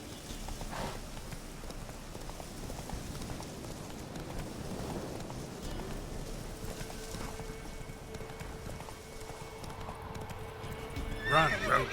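Roach the horse from The Witcher 3 clip-clops along at a steady pace with a whinny near the end, hoofbeats rhythmic and close over ambient game sound.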